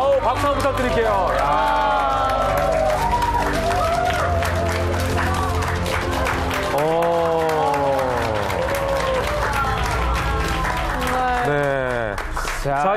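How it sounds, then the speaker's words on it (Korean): Studio audience at a Korean morning TV show with a magic act applauds steadily for about thirteen seconds, loud and continuous, while music with sliding tones and a steady low beat plays underneath. "박수 한번 부탁드릴게요."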